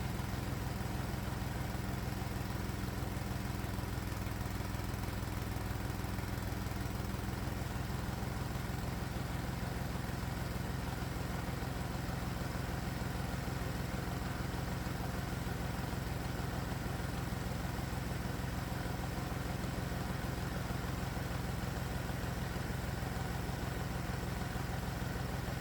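A Predator small engine runs steadily under a light load, a constant buzzing drone with no change in pace, close by and unbroken, with no voices.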